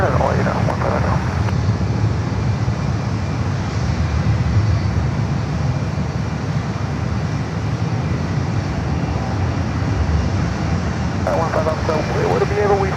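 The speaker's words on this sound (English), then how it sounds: "That heavy is rotating off the departure end." A heavy jet rotates and climbs off the departure end at San Francisco airport with a loud, sustained engine rumble, while brief bursts of air-traffic radio chatter come in at the start and end.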